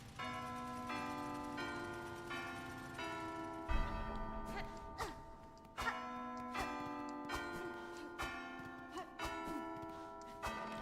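Duplicated bells in a video game bell puzzle ring in a busy overlapping sequence, repeated chiming strikes with sustained tones and some clattering hits, fairly faint throughout.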